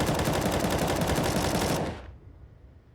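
Rapid, loud bursts of pistol fire in a Counter-Strike: Global Offensive match on the Vertigo map, overlapping shots packed densely for about two seconds before cutting off to quieter background.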